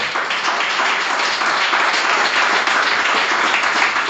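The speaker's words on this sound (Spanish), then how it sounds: "Qué bonitas las palmas para el Señor" A church congregation claps its hands in praise to the Lord during worship, a dense, steady roar of clapping filling the room without pause.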